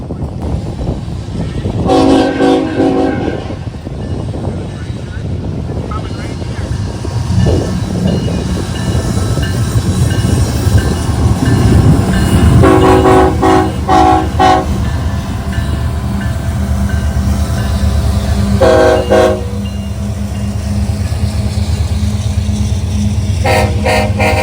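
A train rumbles past on the Willard subdivision with a loud, steady low roar of wagons, broken by several long horn blasts sounded in bursts, close by and dominant throughout.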